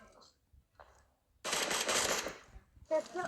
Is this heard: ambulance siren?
no